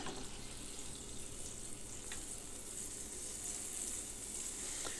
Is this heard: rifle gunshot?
no